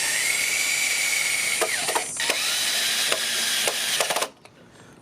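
A power drill drives 3.5-inch screws into the timber frame of a 12x8 shed foundation built on a slope, giving a steady loud whine with several sharp clicks and bursts before it cuts off near the end.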